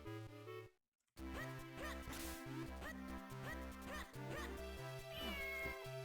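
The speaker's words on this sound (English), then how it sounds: "We got cats." Cats in the game Zelda: The Minish Cap (randomizer) meow repeatedly in quick, overlapping calls over looping chiptune music, after a brief silent gap near the start.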